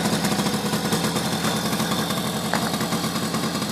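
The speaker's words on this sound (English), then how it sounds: "This is my 2011 Tomos Streetmate R. It's got the A55 engine." A 2011 Tomos Streetmate R moped with the A55 engine idles close by, a steady buzzing putter with a fast, even rhythm and no voices over it.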